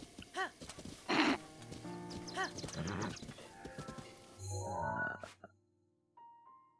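A horse in Zelda: Breath of the Wild neighs, its hooves clopping in short bursts among other game sounds and effects, with a few rising whinny calls before the sound cuts out.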